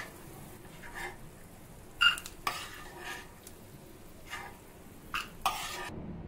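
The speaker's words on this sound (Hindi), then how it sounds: "अब इसे रेगुलर चलाते हुए भून लेंगे।" Peanuts roast in oil in a wok and are stirred with a metal spoon, giving a soft steady sizzle under occasional sharp scrapes and clinks of the spoon against the pan, close but quiet.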